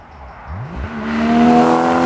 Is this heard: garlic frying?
no